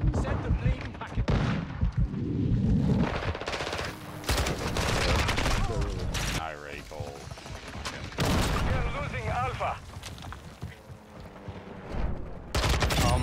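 Call of Duty MW2 gunfire crackles in repeated bursts and sharp shots amid a busy battle soundscape, with a player talking over much of it.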